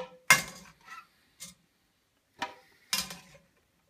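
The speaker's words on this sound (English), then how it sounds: "I'm going to scoop them out, put them in the blender." Steamed vegetables scooped from a pot into a Vitamix blender: a few separate scrapes and soft knocks of utensil against cookware, brief and close, with quiet gaps between them.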